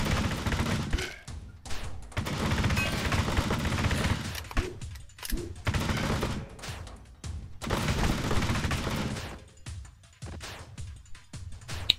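Bursts of rapid gunfire from a video game come in long loud volleys with heavy booming thuds. Short gaps separate the volleys.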